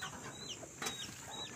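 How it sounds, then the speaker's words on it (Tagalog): An asil hen clucks softly a few times, quiet and fairly close, over a faint farmyard background. "Yan po ang ating inahing asil."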